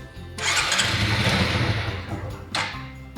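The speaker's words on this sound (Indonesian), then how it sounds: "Kita hidupkan sampai tekanannya habis dan motor tidak mau hidup sama sekali." A motorcycle engine is started during fuel-injection pressure testing and runs loudly at a steady idle for about two seconds before cutting out, followed by a brief final sputter.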